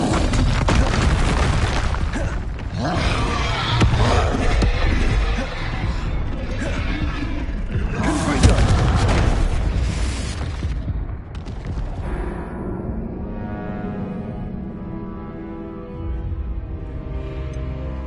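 Fire spell blasts in the video game Hogwarts Legacy, loud booming bursts and roaring whooshes that rumble heavily for ten seconds, then trail off into a quieter ringing tail.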